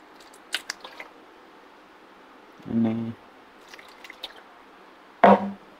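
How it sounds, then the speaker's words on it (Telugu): Water poured into a bowl of yogurt makes two short, wet squishing splashes, separated by quiet stretches with a few faint clicks and drips. "కొన్ని వాటర్ తీసుకుందాం మన పెరుగులకి."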